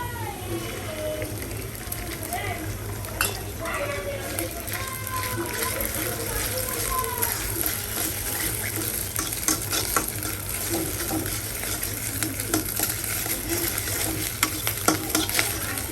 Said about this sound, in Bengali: সেই নুডলস আমি এখন তাদের জন্য রান্না করে দিচ্ছি